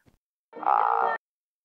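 A single short, buzzing frog croak rings out clearly against silence, preceded by a tiny click.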